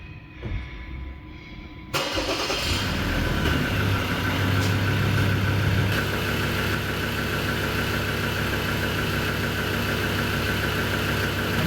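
After a quiet stretch, a car engine cranks and catches about two seconds in, then settles into a steady, even idle that holds for the rest of the clip, close and fairly loud, with no talking.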